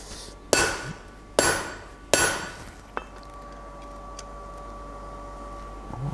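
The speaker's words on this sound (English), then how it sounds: "Just turn it up and give it a tap with the hammer." A blacksmith's hammer strikes a forged rivet snap three times with loud, ringing blows, then gives one lighter tap, followed by a faint steady hum in the workshop.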